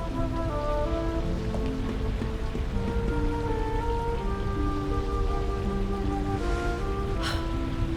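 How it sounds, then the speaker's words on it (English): Rain falls steadily in a Dragon Quest 11 S cutscene, an even patter spread through the whole stretch and mixed with a soft, sustained musical score. "The drought breaks. Rain falls."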